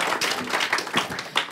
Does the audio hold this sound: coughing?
no